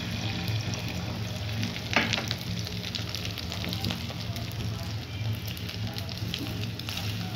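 An egg crackles and sizzles in a little oil in a pan as a steady, close frying hiss with scattered pops for several seconds, and no voices are heard.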